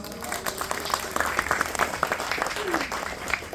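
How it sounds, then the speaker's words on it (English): Applause from an audience at a gathering, a steady wash of many hands clapping at moderate distance, with voices and chatter mixed in underneath throughout. "So give them a round of applause."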